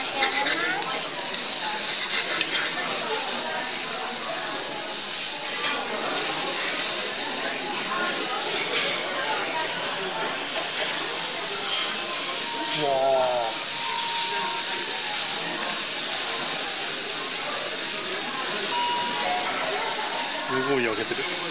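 A 100% beef hamburger steak, charcoal-grilled, sizzles on a hot iron plate at a Japanese restaurant, giving a steady, loud hiss and spatter throughout with voices talking over it.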